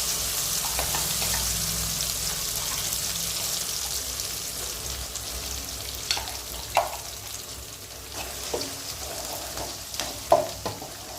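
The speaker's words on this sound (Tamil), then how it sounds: "நல்லா இந்த கீரையை போட்டு நல்லா பரட்டி வாட்டி எடுக்கணும்." Puliccha keerai, mashed sorrel leaves, fries in a pan with a steady, close sizzle that eases over time, broken by a few soft knocks and scrapes as the greens are stirred.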